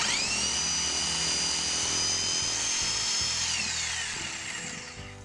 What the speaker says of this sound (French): Je peux ensuite utiliser ma scie sauteuse pour découper le reste du trou.